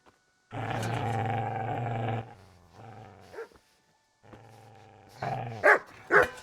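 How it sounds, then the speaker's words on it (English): A dog in Kingdom Come: Deliverance growls in long, steady rumbling stretches, then breaks into a few loud, sharp barks at close range. "Get away, you mutt!"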